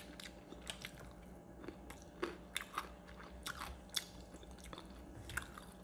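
Crunchy fried Jollibee food being chewed at close range, a series of irregular crisp bites and crunches spaced over several seconds against a quiet room hum.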